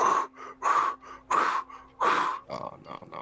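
A voice imitates heavy breathing in a tabletop role-playing session, giving a slow series of loud, rasping breaths, each about half a second long, with short pauses between them.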